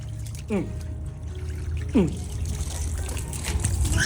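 Water sprays onto mud outdoors, making a continuous rushing trickle with a couple of brief splashy surges, under a steady background wash.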